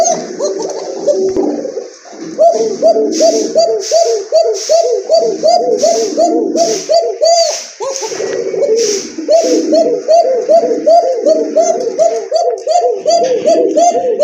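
A male pigeon coos repeatedly in rhythmic, throaty bursts, close and loud, continuing almost without pause throughout.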